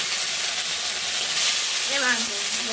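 Oil hisses steadily in a wok as meat fries for homemade fried rice, a broad, even sizzle with a faint voice briefly rising near the end.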